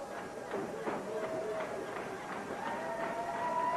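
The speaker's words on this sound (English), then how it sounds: "you can hear the crowd in the background. They're ready to go." A wrestling arena crowd at a 1993 Universal Wrestling Federation event makes a steady, distant roar and murmur throughout, while a commentator talks over it.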